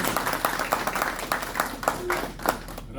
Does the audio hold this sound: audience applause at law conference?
yes